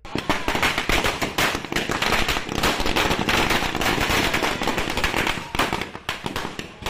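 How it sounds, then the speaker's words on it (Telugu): Firecrackers bursting on the Guntur main road in Narasaraopet during a street celebration by TDP supporters, a dense, continuous barrage of loud crackling pops for the whole stretch. "నరసరావుపేటలో గుంటూరు ప్రధాన రహదారిపై టపాసులు పేల్చారు"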